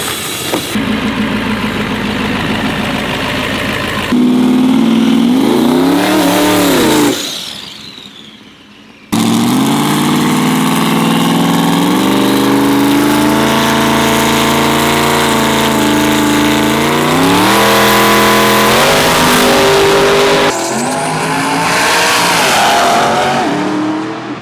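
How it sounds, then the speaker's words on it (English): Pro diesel dragster race car engines idling with a low rough rumble, then revving hard in loud rising and falling surges, one cutting out briefly before firing up again, no talk. "Diesel Dragsters."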